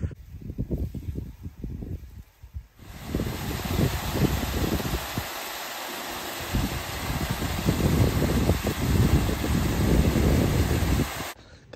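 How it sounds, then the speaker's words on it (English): Strong wind roars and thumps against the microphone in heavy, uneven gusts, with a brief quieter lull partway through before the buffeting returns. "It's a bit windy for filming much"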